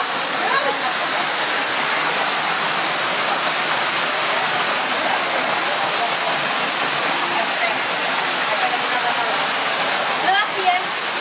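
Steady, loud broadband rush of the Cascada de colores waterfall in the Caldera de Taburiente, a continuous close roar of falling water, with faint voices barely rising above it.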